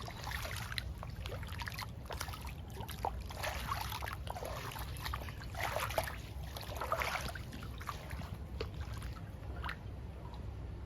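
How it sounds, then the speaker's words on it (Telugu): Rainwater trickles and drips steadily in a terrace garden after rain, soft splashy patters scattered over a continuous low wash of running water. "ఇది చూసారా వర్షం నీళ్ళు చూడండి"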